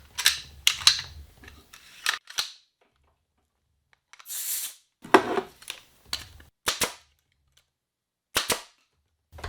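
A brad nailer fires repeatedly after being serviced, giving sharp mechanical snaps and clacks in uneven bursts, each with short pneumatic hisses between them, close and fairly loud, with brief quiet gaps.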